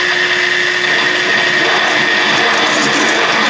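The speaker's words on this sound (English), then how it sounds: "Makes a lot of noise. I wasn't expecting that. Well, I mean, that's a big drill bit." Loud, steady mechanical whine of a large drill bit boring into a cracked Jeep cylinder head, continuous with a harsh broadband roar and no talking.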